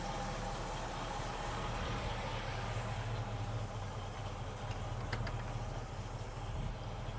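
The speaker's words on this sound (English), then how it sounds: "Got a great idle to it, doesn't it?" A 1970 Mustang Fastback's big engine idles with a deep, steady rumble and slight lope, close by, with a couple of faint clicks near the end.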